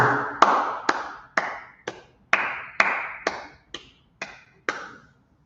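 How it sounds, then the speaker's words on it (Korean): Eleven single sharp claps ring out one after another at an even, unhurried pace during a live morning class assembly. Each is crisp and fairly close, with a short decay and quiet gaps between. "다 같이 박수"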